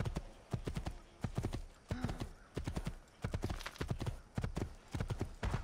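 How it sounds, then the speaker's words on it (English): Horse galloping in the video game Assassin's Creed II, rapid rhythmic hoofbeats close and loud, with a short whinny partway through and faint talk underneath. "I got hit by a horse!"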